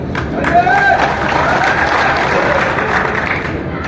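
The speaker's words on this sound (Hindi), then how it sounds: "ताली नहीं बजाएंगे तो अच्छा रहेगा, बात का तसलसल खत्म हो जाता है।" Audience at a political speech in Malegaon breaks into steady, dense applause, a loud continuous wash of clapping with crowd noise and some voices mixed in throughout.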